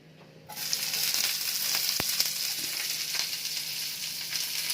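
Cabbage hits hot oil in a pan and sizzles loudly and steadily, a dense frying hiss with faint stirring, close up and with no talking.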